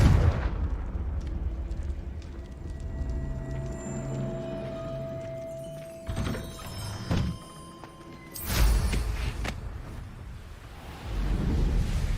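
A fire spell explosion from the video game Hogwarts Legacy, with heavy booming bursts and thuds over a rumbling game soundscape, a sharp loud blast near the end, no speech.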